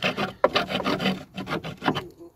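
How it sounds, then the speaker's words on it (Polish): Rust being scraped off the body of a Mitsubishi Pajero: a rough, rasping scrape repeated in quick strokes, close and fairly loud, with no talk. "skrobanko."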